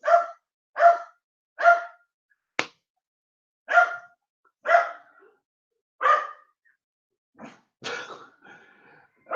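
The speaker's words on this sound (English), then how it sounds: "there goes the dog again" A dog barking in short, sharp, evenly spaced barks, about a dozen over several seconds, heard alone in a quiet room with a few clicks and snaps between them.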